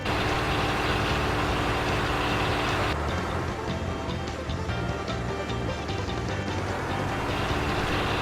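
A truck engine idles in the DayZ survival game, a steady low rumble that continues without a break and holds an even level throughout.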